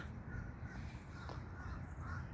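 Crows in trees on a cold, cloudy day caw from a moderate distance over a steady wind-like rumble, with several hoarse calls spread across the moment.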